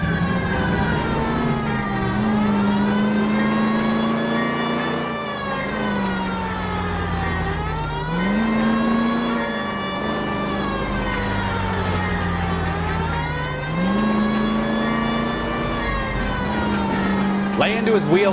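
A wailing police siren rises and falls in slow cycles over a droning engine during a car chase in LA Noire, loud and continuous, with voices talking over it.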